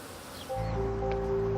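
A honeybee swarm hums as it gathers, a low steady buzz that swells in after a quiet rustling start and holds close and continuous.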